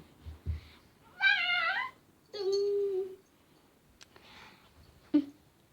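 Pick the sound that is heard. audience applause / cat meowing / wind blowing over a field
cat meowing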